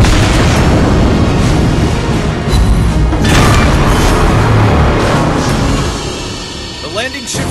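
Heavy artillery explosions boom and rumble almost continuously in the naval battle game World of Warships Blitz, dense and loud throughout with short crackling bursts layered on top.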